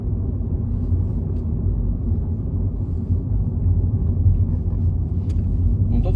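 Steady, loud low-frequency road rumble from a Mini car cruising straight on a road test, the engine and tire drone continuous and even with no talk.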